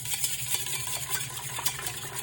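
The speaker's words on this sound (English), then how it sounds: "I'm gonna go ahead and whisk this together so it's not so hard" Chocolate cake batter whisked in a bowl, a continuous close rhythm of quick scraping and tapping strokes over a steady background hum, with no talk.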